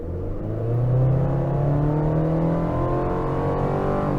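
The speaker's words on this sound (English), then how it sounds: "let's just talk about this engine. I'm gonna get into the heavy, the pedal heavy here." A 2023 Chevy Colorado Trail Boss pickup engine revs under heavy throttle from the driver's seat, its steady rising drone climbing in pitch as it accelerates, loud and continuous with no talking.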